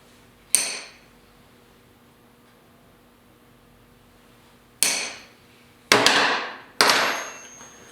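Sharp metallic hammer strikes on an anvil while shaping automotive trim clips: one hit, a long pause, then three more blows in quick succession, each with a bright ringing decay.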